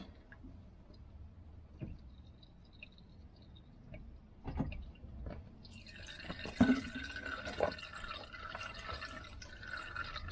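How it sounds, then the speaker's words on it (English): Fresh engine oil is poured into a Fiat Ducato van engine to flush out old oil, heard as faint drips and a soft trickle that grows in the second half. "pour a bit of the fresh oil through just to flush the system"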